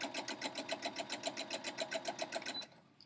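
A home sewing machine chain-piecing quilt seams at a 1/4 inch allowance, running steadily with a fast, even stitching rhythm for over two seconds before stopping abruptly, close and clear with no talk.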